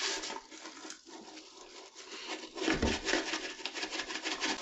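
A brush scrubs a toilet bowl coated with baking soda and hydrogen peroxide, giving close, gritty rubbing that turns into faster, rhythmic back-and-forth strokes toward the end.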